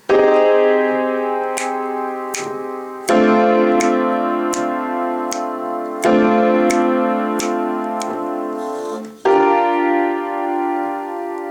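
Piano chords struck one after another in a slow, steady pattern, each ringing out before the next, played alone with no voices.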